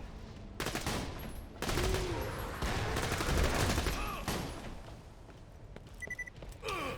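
Dense, continuous gunfire from a Kerblaster in the video game Borderlands 2 fills the whole stretch, with rapid overlapping shots and impacts that swell and fade, plus a few higher electronic game tones near the end.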